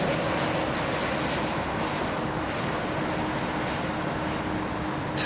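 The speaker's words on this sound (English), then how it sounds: "that plane has travelled all the way from the United States of America" Small airplane at London Heathrow Airport, its engines giving a steady broad roar that holds constant throughout, fairly loud and continuous, with no talk over it.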